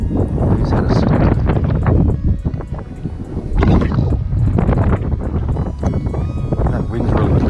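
Strong gusts of wind roar across the microphone while fishing outdoors, a loud, steady, low buffeting rumble that swells and dips but never lets up.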